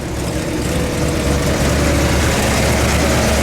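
The 354 Hemi V8 of a 1956 Chrysler New Yorker, a gray survivor car, runs up close in a dense, steady low rumble that holds an even throb without a clear rise or fall.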